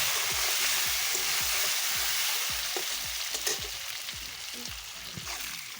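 Egg kosha sizzles steadily in a pan for a Bengali khud bhat picnic, with a spatula scraping and stirring in a regular rhythm throughout, close and fairly loud.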